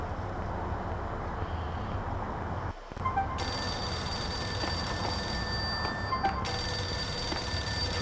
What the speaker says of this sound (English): that's a payphone